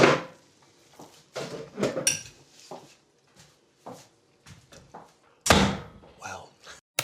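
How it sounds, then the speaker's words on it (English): A door bangs shut hard inside a house during a dinner party, with sharp, loud impacts standing out over intermittent talk and household clatter. "How are you slamming doors in other people's houses?"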